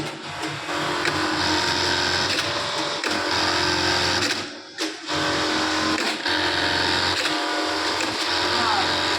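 Sewing machine running steadily with a fast mechanical whir and clatter, briefly pausing midway before resuming, close and loud, with people talking over it.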